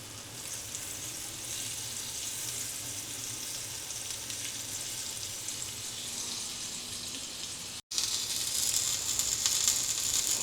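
Whole wheat pizza bombs frying in butter in a pan over a medium-low flame, a steady even sizzle running throughout with a brief break near the end.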